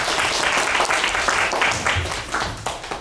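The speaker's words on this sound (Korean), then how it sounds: "박수 한번 쳐주시겠어요?" A university HCI lecture class in Korea bursts into steady, fairly loud group applause for a presenting team, a dense wash of many hands clapping for about three seconds.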